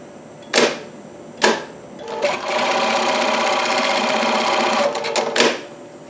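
Industrial sewing machine with its automatic knives removed, tacking a parachute line: two short stitch bursts, then a steady rapid stitching run of about three seconds, followed by a few more quick bursts, close and loud.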